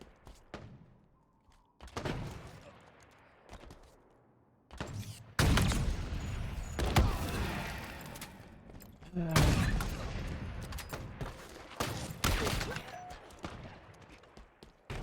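Gunfire in Halo Infinite multiplayer comes as repeated loud bursts of shots and impacts separated by short gaps, heavy and close, with occasional thuds between volleys.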